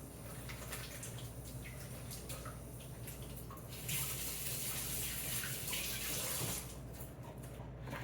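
Water running from a tap as hands are wetted during bread baking, a steady close splashing hiss that grows louder midway, then eases back.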